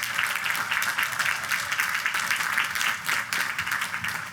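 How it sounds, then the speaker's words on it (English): Graduation audience at the Queens College 100th commencement ceremony applauding in a sustained, dense round of clapping that stays steady and loud throughout, with no voices on top. "Please give our graduates another big round of applause."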